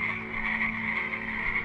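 A frog croaks in a steady, continuous trill, loud and close, holding at one level throughout with no breaks and no talking.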